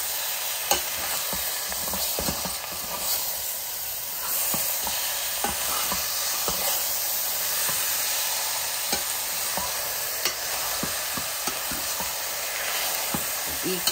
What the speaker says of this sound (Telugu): ఒక్కసారి తిప్పేసుకొని